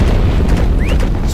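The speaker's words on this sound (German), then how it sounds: "Das war eine Bombe." A bomb going off in Heroes & Generals, a loud, close, dense low-end blast rumbling through the whole moment, with a brief faint whistle-like tone over it.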